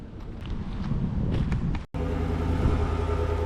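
A Chevrolet truck drives along with a steady low engine rumble and road noise, wind buffeting the microphone, and a brief dropout partway through before the drone continues, close and loud.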